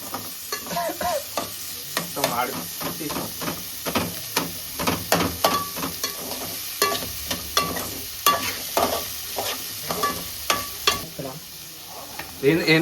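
Paneer fries in kerosene oil during a night-out cook, crackling and sizzling steadily with sharp stirring clanks and scrapes against the pan recurring throughout, no talk.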